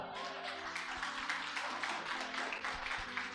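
Church congregation applauds during a Portuguese sermon, a dense, steady wash of many hands clapping at moderate distance, continuous throughout with no speech.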